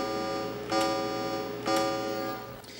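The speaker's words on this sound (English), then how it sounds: "if I just play the envelope that's there at the moment, it'll sound like this." A Tandy 1000 SX sound chip plays its envelope generator setting as a steady electronic tone with bright harmonics, swelling twice in short bursts and fading near the end, heard alone.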